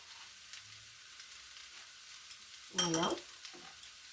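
Beef mince frying in a pan with ground coriander, cumin, turmeric and salt for kheema filling: a quiet stretch, then one short, loud burst of sizzling and stirring, with a brief spoken word.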